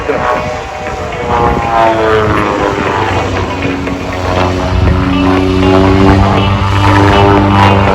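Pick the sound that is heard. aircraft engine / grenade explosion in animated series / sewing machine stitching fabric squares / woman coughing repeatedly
aircraft engine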